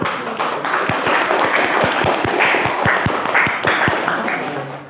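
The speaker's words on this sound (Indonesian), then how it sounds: "Saya beri aplaus dulu." A small group applauds a presentation, with brisk, fairly close hand claps in a steady burst that tapers off near the end, and no talk over it.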